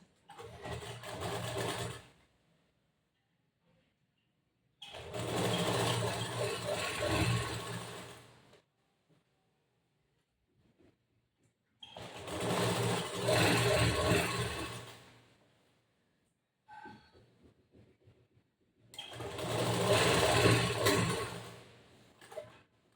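A sewing machine stitches a blouse seam in four separate runs of fast, even whirring, each lasting a few seconds, with silent pauses between them.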